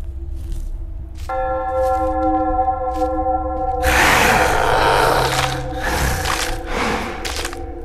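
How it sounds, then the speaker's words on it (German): A single church bell strikes in the video game Wick, ringing out from about a second in with a steady sustained tone, then swells into a louder, noisier wash of sound that lasts to the end of the clip. "Okay, erster Glockenschlag."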